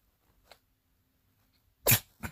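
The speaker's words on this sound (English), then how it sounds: "That's why you sneeze all the time." A single sharp sneeze bursts out loudly after near silence, followed by a short softer exhalation, with a faint breathy sound just before.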